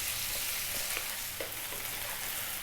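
Chicken curry frying in a pot for an Ethiopian dish, a close, continuous sizzle with a few soft stirring scrapes and no talk.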